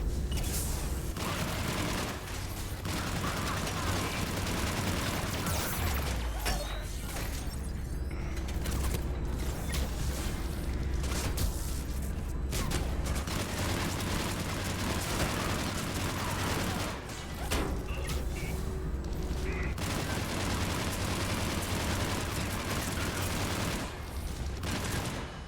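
Video game weapon fire, a dense, continuous mechanical rattle of rapid shots running steadily for the whole stretch with only a few brief dips, loud and close with no talking.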